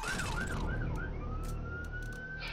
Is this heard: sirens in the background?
yes